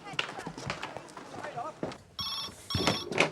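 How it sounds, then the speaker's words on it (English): Telephone bell rings in short bursts of bright electronic trilling in the second half, starting after muffled footsteps and movement, with people talking throughout. "The phone's ringing."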